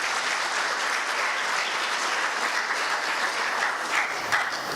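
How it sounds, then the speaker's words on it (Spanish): Congregation at a church service giving sustained, dense applause that holds an even, loud level throughout, a broad wash of many hands clapping without talk over it. "denle un aplauso,"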